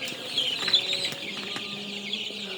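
Kalabat breed chicks cheep and cluck softly in a farm brood, a busy overlapping chorus of thin high peeps at close range.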